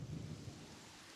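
Rain falling in the Pathfinder: Kingmaker video game, a steady, soft hiss of rainfall with a low rumble at the start, heard briefly and alone.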